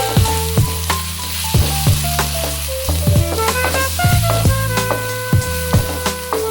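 Chili powder and coriander powder frying in oil in a pan for a fish pulusu, a steady loud sizzle with repeated sharp clinks and scrapes of a spoon stirring against the metal.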